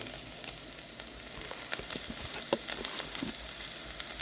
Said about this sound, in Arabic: بعد ما اشوح التومه اشوحها شويه كده